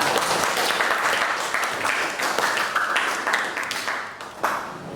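A classroom crowd applauding, with dense continuous clapping that stays loud throughout and tapers slightly near the end.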